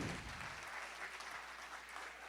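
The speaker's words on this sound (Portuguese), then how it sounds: "Você pode aplaudir ao Senhor?" A church congregation applauds the Lord, a broad, even patter of many hands clapping that holds steady throughout, fairly distant, with a low hum underneath.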